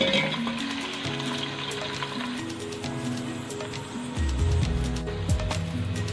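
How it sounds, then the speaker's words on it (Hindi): Onions frying in hot oil for vegetable fried rice: a soft hiss of sizzling runs under background music and grows fuller and louder partway through. "अब इसमें हम प्याज डालते हैं। ये देखिए, प्याज को हम थोड़ा सा भूनेंगे।"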